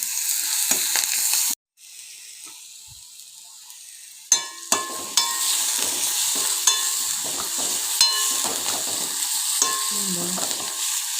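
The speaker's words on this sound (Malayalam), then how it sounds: "ഇട്ടിട്ട് വഴറ്റുക." Curry ingredients for a Kerala-style thalu curry sauté in a pan, with steady close sizzling broken by scraping stirs and occasional clinks of the spoon against the pan.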